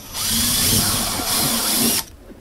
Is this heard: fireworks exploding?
no